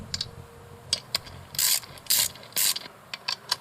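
Ratchet wrench tightening washered wheel bolts on a 20-inch KMC wheel for a 43-inch Baja Pro mud tire, quick clicking bursts and several longer buzzing ratchet runs, close and alone.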